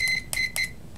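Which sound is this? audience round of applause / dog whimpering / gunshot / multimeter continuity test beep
multimeter continuity test beep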